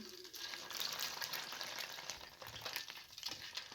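Ghee being stirred with a spoon into a bowl of crushed ice to turn it buttery: a steady gritty, crackling churn of ice and spoon that continues without pause at moderate level.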